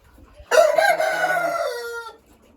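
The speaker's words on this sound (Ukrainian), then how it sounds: "І бройлери там сидять теж." A single loud, drawn-out chicken call rings out close by in a poultry shed where broilers are kept. It rises sharply, holds for about a second and a half and then cuts off, against near silence.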